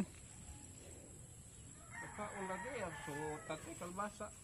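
Chickens cluck and call in a quick, uneven run, fairly quiet over a steady background hiss.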